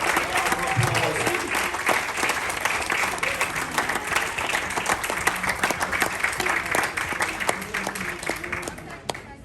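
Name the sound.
audience applause at an awards ceremony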